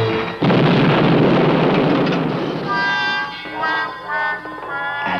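An old cannon test-fired: a loud, broad blast bursting in at the start and rumbling on for several seconds, with a layered musical tone rising behind it as it fades.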